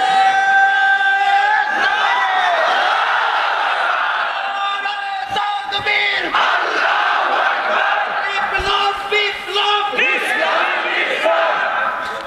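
A large crowd shouts the takbir together in a loud, sustained roar of many voices, with a leader's calls and the crowd's answering chants rising and falling over about twelve seconds.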